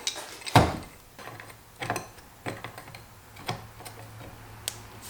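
Wrenches snug a threaded brass hose bib fitting, giving scattered metallic clicks and scrapes at close range, with one sharper knock early on and faint clinks after it, no talk.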